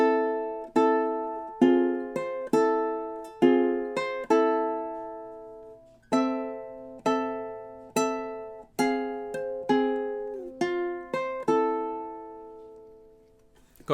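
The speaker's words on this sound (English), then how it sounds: "So measures 14 through 17 should sound something like this." Ukulele picks out measures 14 through 17 of a march from Star Wars, a steady run of about twenty plucked notes in march rhythm, each ringing and decaying, played alone and close.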